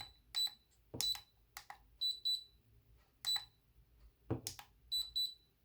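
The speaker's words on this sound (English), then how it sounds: "So when you turn it on, it'll beep, and any sort of adjustment you make, it will beep." A Losi Mini T 2.0 radio transmitter gives short electronic beeps, single and double, interspersed with light clicks and handling taps, close and quiet.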